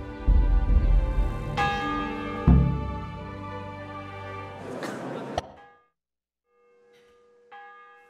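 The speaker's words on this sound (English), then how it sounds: "Dude, the bell is ringing," Church bell tolling in the medieval video game Kingdom Come: Deliverance, with several loud resonant strikes whose long ringing decays fade out into near silence before a softer final strike.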